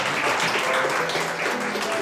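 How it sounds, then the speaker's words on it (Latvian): Sustained audience clapping at a Liepāja culture awards event, applauding the prize laureates, a full and even wash of hands with no pauses. "Un to vēlreiz aplausus visiem laureātiem."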